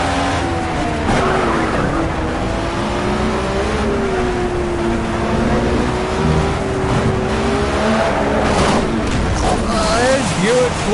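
Race cars in the video game Project Cars rev and accelerate with rising engine whines and tire squeals, loud and continuous, while someone talks over the action throughout.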